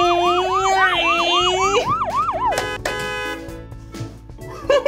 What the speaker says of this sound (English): That horn was really loud.